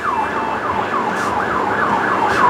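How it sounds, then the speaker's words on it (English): A Care Ambulance Service ambulance siren wails loud and close in a steady repeating rising-and-falling cycle, heard alone with no voices. "It's the same ambulance company. You can recognize their sirens."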